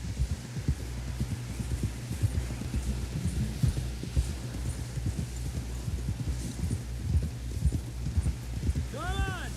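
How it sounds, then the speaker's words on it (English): Steady horse hooves clip-clopping at a walking pace in the video game Red Dead Redemption 2, under a low hum, with a brief whinny near the end. "Someone help John down off this horse."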